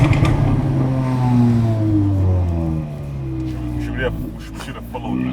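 A 550 bhp car engine revs repeatedly in London traffic, a deep low rumble swelling and easing close by while people talk over it inside the car.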